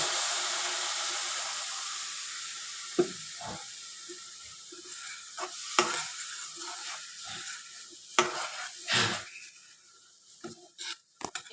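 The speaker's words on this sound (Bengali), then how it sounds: "এবার আমি এতে দুধ দিয়ে দিচ্ছি।" Milk poured into semolina already fried golden in ghee, a loud hiss that fades, followed by scattered scraping stirs and bubbling sputters close by, with no voices.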